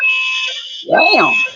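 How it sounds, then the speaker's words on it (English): An apartment alarm gives off a steady, shrill electronic tone, and a voice briefly cuts in over it near the end. "Oh, that's the alarm."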